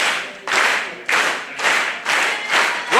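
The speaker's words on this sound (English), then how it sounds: "Right now it's tough to hear anything because this crowd is clapping along." A wrestling crowd claps along in loud, steady unison bursts, roughly two per second, filling the arena and drowning out other sound.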